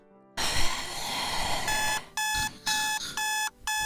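An alarm clock rings in the Roblox game Brookhaven. A brief noisy stretch comes first, then loud electronic beeping in a steady series of evenly spaced bursts with short gaps between them.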